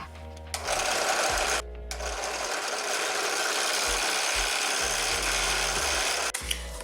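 A power tool bit whirs steadily while cutting through a cardboard homemade rocket body tube, a continuous close buzzing with a brief pause near the start.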